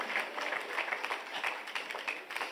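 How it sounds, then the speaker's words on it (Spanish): A church congregation claps together in steady, fairly faint applause throughout, a dense patter of many hands at a service. "démosle un fuerte aplauso a Jesús"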